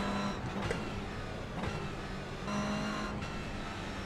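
A race car engine idling and warming up in the iRacing sim, a steady low drone with faint whining tones, moderately quiet and unchanging, with no voices.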